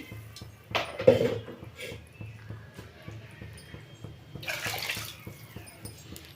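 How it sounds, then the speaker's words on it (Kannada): Water swishing in a mixer jar that held ground chilli paste and then poured out, two short splashy bursts over quiet kitchen background with faint ticking. "ಮಿಕ್ಸಿ ಬಟ್ಲನ್ನ ತೊಳ್ಕೊಂಡು ಅದನ್ನು ಹಾಕ್ಕೊಳ್ತೀನಿ"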